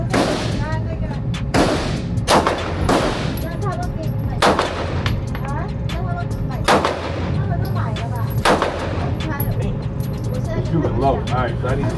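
Gunshots at an outdoor shooting range, a gun fed from 32-round magazines: loud, sharp reports fired one at a time at irregular intervals, with a steady roar of noise beneath them.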